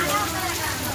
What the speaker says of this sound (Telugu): వర్షం అయితే ఇంకా ఎక్కువైంది, ఫుల్ ఉరుముతుంది బాగా